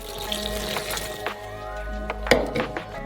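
Water is poured into a bowl holding a kilogram of flour, olive oil and yeast for dough, giving a close trickling splash with a few clinks and small cracks, no voices.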